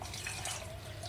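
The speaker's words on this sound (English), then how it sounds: "we're going to add some more water to that to thin it down" Water is poured into a blender jug to thin a parsnip and carrot soup, a steady close trickle and splash that holds at one level throughout the short moment.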